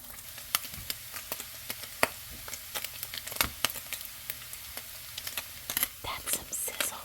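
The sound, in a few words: Spam fried rice sizzling while being stirred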